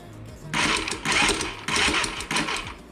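An ATV starter on a 2003 Polaris-style Bear Tracker 250 whirs freely in four quick bursts as the key is turned, a loud, close, high-pitched spinning whine that is not engaging the engine.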